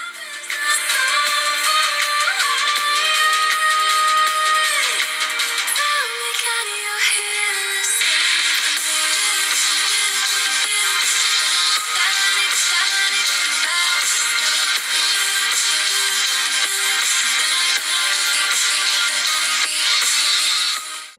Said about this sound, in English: Now let's test the dual stereo speaker setup on this phone.